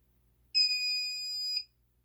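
A timer goes off while rifle cartridges are being reloaded, a single steady high-pitched electronic beep lasting about a second in an otherwise quiet room.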